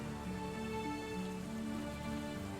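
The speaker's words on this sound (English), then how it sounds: "She can hear the thunder and rain outside." Steady rain pours outside in a dense, even hiss, with a low, constant wash and no distinct drops or pauses, heard alone and at a moderate, distant level.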